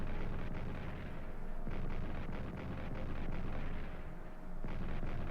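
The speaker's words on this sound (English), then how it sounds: "More artillery here on Metz." Artillery fire from the World War I strategy game Strategic Command, with repeated low booming bursts over a dense, continuous rumble of battle noise, loud and steady throughout.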